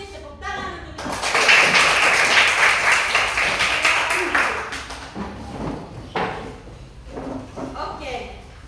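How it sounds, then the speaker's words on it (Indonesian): A classroom of children bursts into lively clapping that swells and fades over several seconds, followed by scattered taps and thumps, with voices speaking around it. "Tepuk tangan untuk kita."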